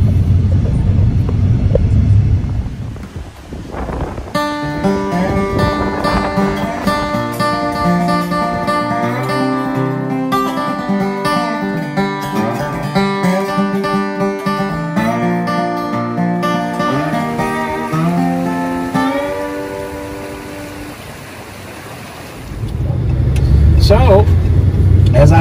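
A car drives out onto Gallatin Pike in suburban Madison near Nashville, its low interior road rumble clear at the start and end, with music playing loudly over the drive in between.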